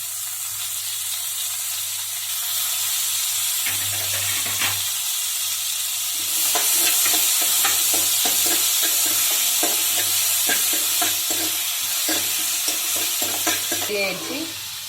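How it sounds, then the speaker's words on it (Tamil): Onions and tomatoes sautéing in a pan for a ridge gourd stir-fry: a steady loud sizzle and hiss, with repeated scraping stirs of a spatula against the pan, close up and no talk. "நல்லா வதக்கி விட்டுக்கலாம்."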